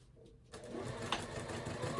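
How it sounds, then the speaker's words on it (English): A sewing machine runs a straight seam on a summer shirt, starting after a short quiet pause and then whirring in a steady rapid stitching rhythm, close and fairly soft. "I just line up on the yellow line and sew all the way down"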